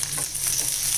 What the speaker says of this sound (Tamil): வெங்காயம் நல்லா வதங்கிட்டு இருக்கு